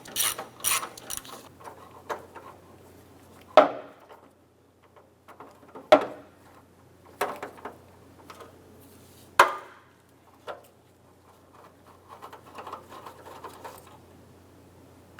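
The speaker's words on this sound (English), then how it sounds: "And then we'll go to the driver's side and remove that second bolt." Ratchet wrench clicks in short bursts while a bolt comes out of the bumper shock absorber on a 2006-2013 Chevrolet Impala, with sharp metallic taps spaced a few seconds apart, close and fairly quiet, no talk.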